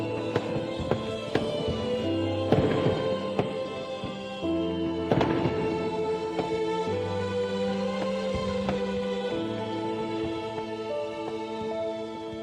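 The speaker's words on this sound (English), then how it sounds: "The fireworks are on" Fireworks burst repeatedly during the Qingming Festival, a rapid irregular series of sharp cracks and pops, some loud and near, others fainter, over a continuous crackling backdrop.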